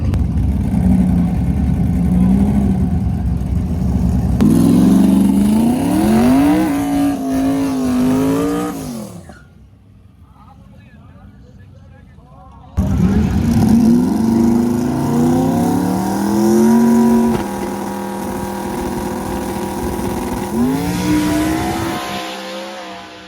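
A turbocharged Honda Integra launches down a prepped drag strip, its engine revving loud and close through rising gear sweeps, dropping away briefly mid-run, then roaring back and pulling hard through more shifts.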